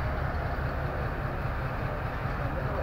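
Hazara Express passenger train running between Karachi and Havelian: a steady, close rumble of rolling wagons with faint rhythmic clatter, unbroken throughout, with no voices.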